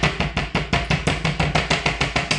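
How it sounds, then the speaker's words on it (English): A rolling pin pounds beef steak to tenderise it, with about fifteen sharp, evenly spaced thuds in quick rhythm, close and loud with no talk. "You're going to just tenderise it."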